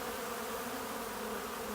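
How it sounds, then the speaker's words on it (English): A dense, constant buzz of many honey bees swarming close by as they rob honey during a hive removal from a boat, a steady droning hum with no pauses. "There's that many bees trying to get into this box."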